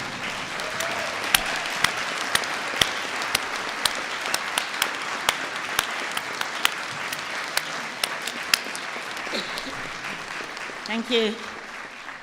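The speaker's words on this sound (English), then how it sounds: "give a huge round of applause to all the teachers and the staff that have helped you here" A large audience at a university business school's winter graduation ceremony applauds the teachers and staff, a steady, moderately distant wash of clapping. Sharp individual claps stand out, and a brief spoken thanks comes near the end.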